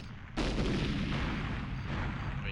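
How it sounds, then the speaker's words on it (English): In the GoldenEye video game, a weapons cache is blown up: a sudden loud blast bursts in after a short quiet lead-in, then rolls on as a dense, sustained roaring rumble with no voices. "So this is a cache that we have to blow up."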